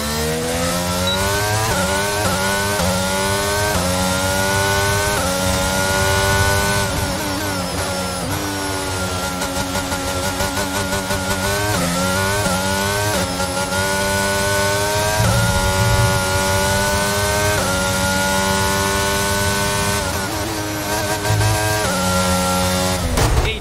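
A Formula 1 car engine in the F1 2022 video game at the Hungary circuit wails loudly and without pause for the whole stretch, its high pitch climbing and dropping through gear shifts, with no voices.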